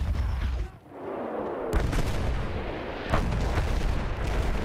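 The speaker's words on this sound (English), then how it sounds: "Direct the dreadnought barrage." Dreadnought artillery barrage in Battlefield 1: heavy booming shell blasts and rumbling impacts, loud and close, with several sharp detonations breaking out over a continuous roar of battle.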